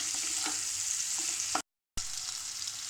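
Boiled potatoes with salt fry in a pan for a spicy potato pickle, making a steady close sizzle with faint stirring taps, interrupted by one short silent break.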